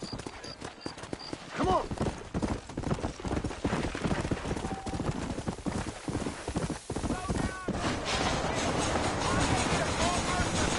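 Horse hooves clop in a steady walking rhythm along a trail in a western video game, with creaking and ambient noise around them and someone speaking briefly over the top.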